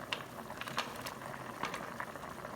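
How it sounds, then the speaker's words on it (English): Chicken stock bubbles in a pot on the stove for curry rice, soft irregular pops and gurgles ticking at close range over a quiet background. "now it is boiling"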